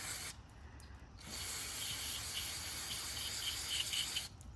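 An aerosol can of mass airflow sensor cleaner sprays onto the sensor of a Lexus IS 250: a brief hiss, then a longer steady spray lasting about three seconds, close and moderately quiet, with no talking.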